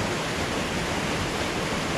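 A waterfall pouring into a small rocky pool on a farm, a steady, loud, broadband rush of falling water with no pauses, recorded close on a GoPro Hero 7 Black with a dome housing.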